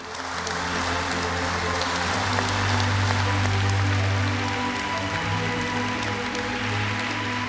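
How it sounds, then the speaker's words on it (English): Audience at a For Women In Science awards ceremony applauding the Rising Talents 2017 laureates, dense continuous clapping filling the hall with a steady low musical tone underneath. "merci d'applaudir comme il se doit les Rising Talents 2017"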